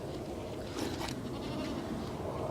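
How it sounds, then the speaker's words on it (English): Goats on a homestead, kept alongside pigs, bleat a few times over steady outdoor background noise, with the calls fairly close and moderately loud. "Oh, the goats want to say hi."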